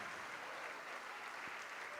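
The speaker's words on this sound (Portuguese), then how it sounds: "E a igreja vai aplaudir ao Senhor Jesus por cada vida que estiver vindo para frente." A church congregation applauding, a steady wash of clapping heard from a distance in a large room.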